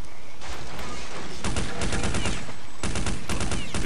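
Rapid automatic gunfire from Counter-Strike: Condition Zero Deleted Scenes comes in loud, close bursts, one brief burst then two longer sustained volleys separated by a short pause.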